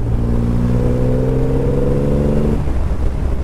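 A Triumph Rocket 3 GT motorcycle engine pulls hard in fourth gear, a steady loud low drone with stacked harmonics for about two and a half seconds before easing off into broadband road and wind noise.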